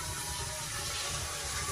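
Water pours into a cooking pot in a home kitchen, a soft, steady splashing rush that stays fairly faint and continuous throughout.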